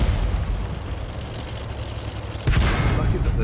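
A tank gun fires in the online game World of Tanks during a fight with a T37 American light tank, a deep booming blast that cuts sharply through a low rumbling background after a stretch of engine-like drone.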